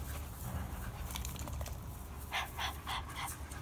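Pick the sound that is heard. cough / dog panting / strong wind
dog panting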